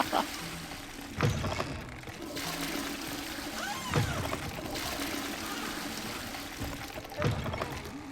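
Running water from a shower in Hogwarts Legacy flows as a steady hiss, with a few thumps cutting through and someone speaking over it.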